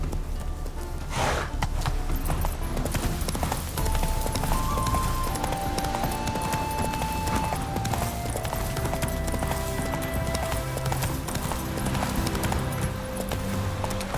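A horse trots and gallops across Skellige in The Witcher 3, its hooves beating in a steady rhythm for the whole stretch over sustained background tones.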